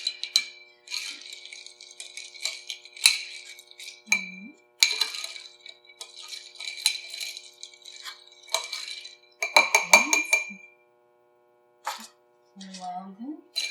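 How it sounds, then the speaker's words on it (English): A maple cold-drink cocktail being stirred in a glass, giving a run of light clinks and ticks that come and go in bursts between stretches of talk nearby. "And I'm going to give it a stir"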